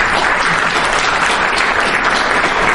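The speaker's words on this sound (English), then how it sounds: "Let us all give him a good round of applause." An audience at a US–Bangladesh summit applauds a finance minister, with loud, dense, steady clapping throughout the whole stretch.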